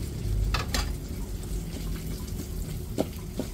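Squid being stirred with flour in a frying pan, soft sizzling and frying with a couple of sharp scraping stir clicks over a low steady background.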